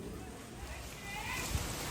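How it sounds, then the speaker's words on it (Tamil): Strong wind rushes ahead of an approaching storm, with no rain falling: a continuous close, loud whooshing that swells slightly near the end, with one brief low thump. "பார்த்திங்கன்னா தெரியும் எப்படி காற்றடிக்குது"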